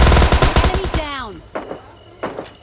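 Gunfire in the mobile shooter PUBG Lite: a rapid, loud burst of automatic shots that ends in a ringing tail, followed by two isolated, fainter shots.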